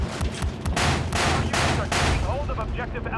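Rapid bursts of gunfire in a free online shooting game, loud and close, cracking in quick automatic volleys that then give way to a few scattered shots.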